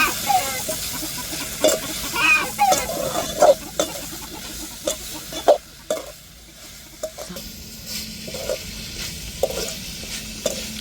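Dried sala fish (kind of salted dried fish) stirred with onions in a hot frying pan, a spatula scraping in repeated irregular strokes over a steady close sizzle.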